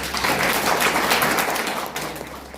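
A seminar audience at a forum applauds, a dense, steady patter of hand claps filling the room that thins out toward the end.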